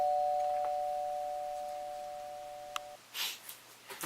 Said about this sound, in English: Oh, doorbell.